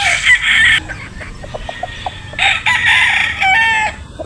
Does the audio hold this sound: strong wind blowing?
no